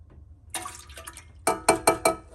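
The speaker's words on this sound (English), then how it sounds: "Cup of water, then a 1/3 cup of milk. So I'm just going to pour that right on top." Milk poured on top of water in a bread machine pan gives a soft trickle, then several louder splashy glugs in quick succession, close and with no talking.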